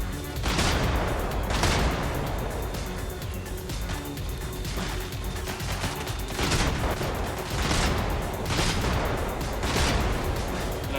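Big cannon firing in the video game Brigador, several heavy booming blasts spaced a second or two apart over a constant rumbling mechanical din, loud and close.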